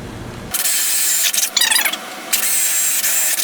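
A power drill bores holes into wooden legs for a 96x18 model railway switching layout. A loud, close, high whine starts abruptly and holds steady, dips briefly as the bit bites and chatters, then resumes.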